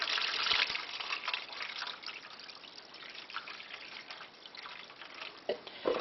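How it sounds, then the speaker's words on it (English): Water poured into a roasting pan holding chicken juices to start gravy, heard as a steady close trickle and splash with a few louder drips toward the end. "We're going to pour in some water in this pan"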